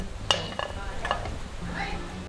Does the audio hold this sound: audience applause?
no